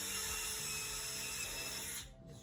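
An angle grinder fitted with a wheel runs steadily against the edges of a storm door jamb, a loud continuous whine that cuts out abruptly near the end.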